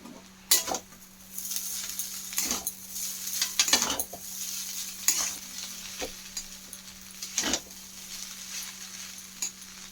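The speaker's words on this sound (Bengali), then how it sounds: "ভালো করে এইভাবে মিশিয়ে নিচ্ছি" Dry chili chicken is stirred with salt and spices in a pan, with a soft ongoing sizzle and repeated scraping, knocking clinks of a spatula against metal coming in irregular bursts.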